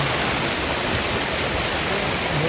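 Continuous dense rush of flowing water, steady and strong like a nearby waterfall, with no voices.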